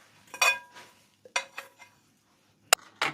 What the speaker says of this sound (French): Et on vient bien mélanger le tout maintenant.